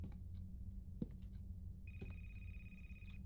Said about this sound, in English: I hear something ringing.